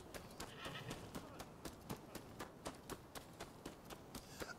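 Quick, regular horse hoofbeats clop along at a steady trotting rhythm, fairly faint, with a neigh in the background, in the video game Rise of the Ronin.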